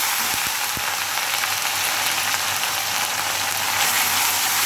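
Garlic and ginger paste stirred in a hot frying pan, cooking for a bean, potato and tomato chorchori: a steady close sizzle with a few light scraping clicks near the start, no talking.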